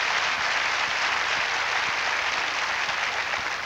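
A church congregation applauds at a sermon, a dense, steady wash of many hands clapping that holds at full strength from start to finish with no voices breaking through.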